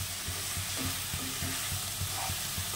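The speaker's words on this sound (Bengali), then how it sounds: "মাশরুমটা দিয়ে হালকা ভাজা করব।" White mushrooms frying in a pan with onion, ginger and garlic, a soft steady sizzle with a rhythmic series of low stirring scrapes and taps recurring every fraction of a second.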